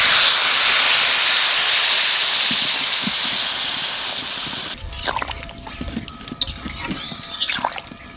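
Water poured onto jackfruit and potato frying with spices sets off a loud, steady sizzle and hiss that fades after a few seconds into softer bubbling, popping and crackling.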